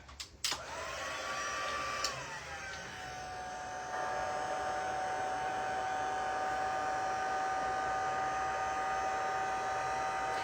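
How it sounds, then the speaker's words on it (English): A small handheld heat tool blows hot air over alcohol ink on vellum. After a few clicks as it starts, it settles into a steady, fairly quiet whirring hum that runs unbroken. "Again, hit it up with the light heat tool"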